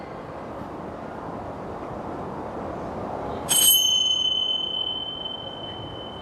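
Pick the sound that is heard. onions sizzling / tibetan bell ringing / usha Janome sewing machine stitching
tibetan bell ringing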